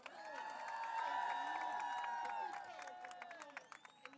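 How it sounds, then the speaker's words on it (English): An audience at a public gathering bursts into applause and cheering, a dense wash of clapping that swells and then thins into scattered claps over a few seconds, with voices mixed in. "by show of applause, how many of you would say there is life on Mars?"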